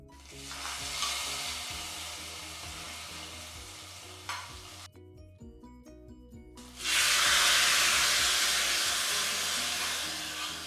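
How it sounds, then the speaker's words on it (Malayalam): Hot tempering poured over an oil-free curry made from nendran plantain: steady pan sizzling, a brief lull, then a loud, sharp burst of hissing sizzle that slowly tapers off. "ഇനി നമുക്ക് ഇത് പതുക്കെ നമ്മുടെ കറിയുടെ മേലേക്ക് ഇങ്ങോട്ട് ഒഴിച്ചു കൊടുക്കാം"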